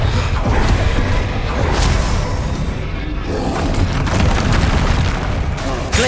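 Repeated blasting-spell explosions from the Hogwarts Legacy video game, loud booms and whooshing bursts layered densely over continuous game combat noise throughout.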